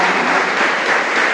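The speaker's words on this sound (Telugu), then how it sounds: "ఒక్కసారి బిగ్ క్లాప్స్ ఇవ్వండి సార్ వాళ్ళకి ఈ ప్రోగ్రామ్ కండక్ట్ చేస్తున్నందుకు." An audience applauding at a college program, a loud, dense wash of many hands clapping at once, steady for its brief length with no voices over it.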